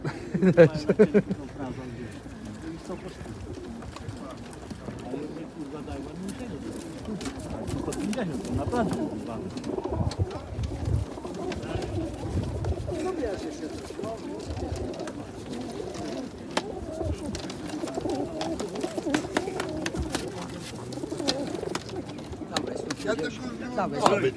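Pigeons coo steadily in soft, repeating calls while people talk nearby at a pigeon market in Łomża, Poland.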